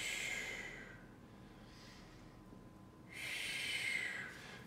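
A person lying on a foam roller during a piriformis stretch takes two long, deep, airy breaths, close and alone with a quiet pause between them.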